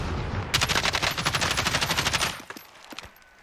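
Rapid automatic gunfire in Call of Duty Cold War, a sniper-support Kilo loadout in Warzone-style play, a dense burst of about two seconds of close, loud shots followed by fading echoes.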